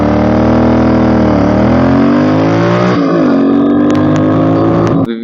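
A Royal Enfield GT650 motorcycle engine revs hard through its exhaust, a loud, steady, close roar rising in pitch as it accelerates, dipping briefly near the end as the throttle changes.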